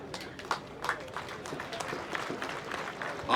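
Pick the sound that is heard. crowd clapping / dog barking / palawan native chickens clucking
crowd clapping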